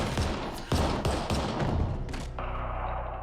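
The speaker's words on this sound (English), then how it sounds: "she holds that gun out and she fires it and she takes out Ghostface" Gunshots ring out in a film scene from Scream 7, a series of heavy close blasts and thuds spaced about half a second apart, fading into a low rumbling tail.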